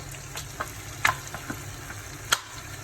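Shrimp biryani mix frying in a pan with biryani masala and yogurt, giving a soft steady sizzle broken by a few sharp ticks and light stirring scrapes, quiet and close.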